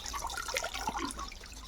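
Water poured over freshly harvested taro roots in a backyard to rinse off the soil, a steady splashing and trickling close by with no talk.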